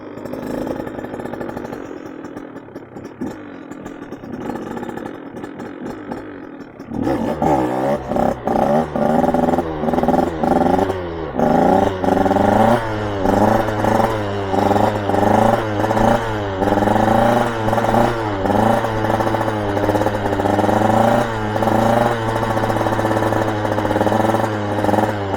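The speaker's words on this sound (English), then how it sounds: "Warm up, do some little first gear wheelies." A dirt bike, a BombMoto B1 or KTM 105, idles quietly before its engine bursts into loud, close revving, rising and falling repeatedly through first gear wheelies.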